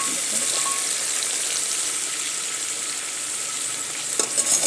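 Potatoes frying in a pan for tahari give a steady, broadband sizzle throughout, close and fairly loud, with a few clattering stirs near the end.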